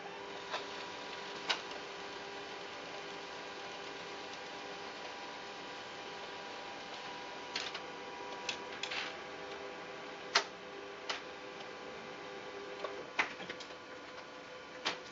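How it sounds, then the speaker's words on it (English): A number plate printer runs with a steady mechanical hum, punctuated by irregular sharp ticks and clicks throughout, close by with no voices. "There's a little lever, there it goes, and we'll start to print."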